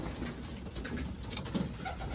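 Racing pigeons cooing inside a loft, soft murmuring coos over a steady hum of background noise, with no talking.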